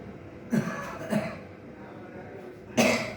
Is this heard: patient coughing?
yes